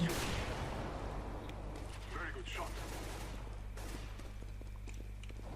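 Counter-Strike: Global Offensive gunfire crackles in rapid bursts and scattered shots over a steady low game hum, moderately loud throughout with a voice talking in the background.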